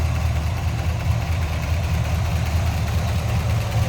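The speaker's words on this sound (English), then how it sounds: "See a smooth running engine." A 1970 Chevrolet K10 pickup's 350 V8 idles smoothly and steadily up close, a continuous low rumble with no voices over it.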